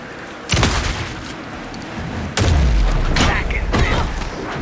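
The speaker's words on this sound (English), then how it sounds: "Anderson, pin him down with gunfire for me to get the light on him." Sharp bursts of video game gunfire from Alan Wake 2 crack out in two clusters, each followed by a deep booming thud, with faint mechanical noise between them.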